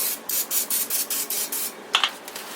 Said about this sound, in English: And I'm going to spray the chicken as well.